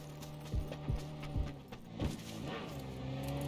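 A car in the PUBG Battlegrounds video game drives up, its engine hum rising and holding steady, with a few thumping impacts and rustling game sounds around it.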